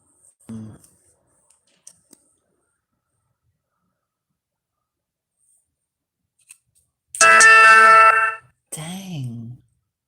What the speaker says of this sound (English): That was a text message.